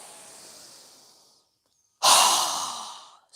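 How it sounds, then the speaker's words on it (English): Deep nasal inhale during a yoga breathing exercise, a loud rushing breath of about a second and a half following a quieter, fading breath and a brief pause. "So go ahead and inhale."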